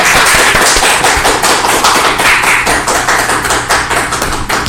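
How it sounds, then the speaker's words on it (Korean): A large crowd applauds at a Korean National Foundation Day (Gaecheonjeol) commemorative assembly in Gyeonggi; loud, dense, sustained clapping fills the whole stretch without a break. "큰 박수 보내주시기 바랍니다."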